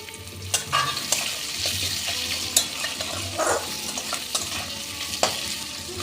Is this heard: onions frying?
yes